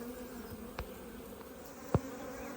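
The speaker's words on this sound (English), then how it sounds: "it's quite active, and our new colony of bees has established themselves very well" A newly established, very active honey bee colony hums inside its hive as a faint, steady drone, broken by two soft knocks or bumps.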